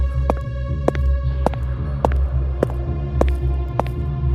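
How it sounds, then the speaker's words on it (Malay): A throbbing heartbeat sound effect pulses steadily, about seven or eight evenly spaced beats, over a low constant hum in an eerie hospital-corridor setting, with no voices. "Degupan jantungnya meningkat"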